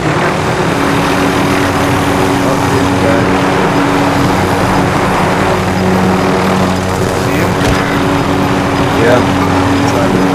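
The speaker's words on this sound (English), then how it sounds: "I'm gonna get the helicopter" Helicopter in the Call of Duty Warzone video game, a steady low rotor and engine drone that runs loud and continuous throughout, with game sounds layered over it.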